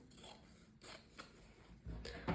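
Scissors snip through a paper dress pattern in a few quiet, short cuts and rustles, close up, ending with a louder paper crinkle.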